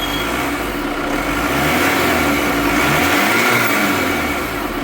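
A 2016 Chevrolet Cruze LTZ engine idling, a steady, close whirring drone with a slight rise and fall in intensity, running alone without speech.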